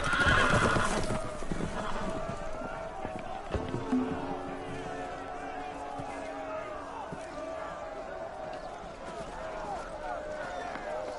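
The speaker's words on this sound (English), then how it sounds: "The horses! They're loose!" Horses in a video game, Game of Thrones, whinny loudly up close, then hooves clatter and thud as they run off loose, a busy, continuous commotion with no clear talking.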